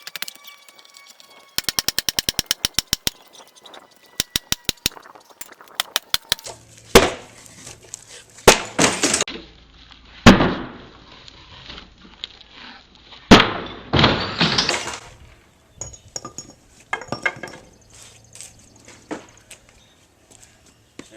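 Hammer whacking an old, heavily painted door jamb to pull it loose during a milk house restoration, scattered loud thuds and cracking knocks with rattling bursts and quiet gaps, close by.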